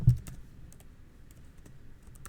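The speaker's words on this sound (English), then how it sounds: "New keyboard, still getting used to it." Typing on a new computer keyboard, a steady run of light, crisp key clicks at close range with one louder tap at the start, and no talk.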